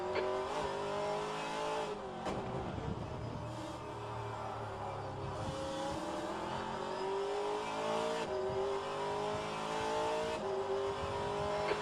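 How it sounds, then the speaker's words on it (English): Race car engine in the rFactor2 sim racing game at Long Beach, steady high revving with repeated upshifts and brief lifts, occasional tyre squeal, continuous and moderately loud, no talk. "There's a faster car approaching."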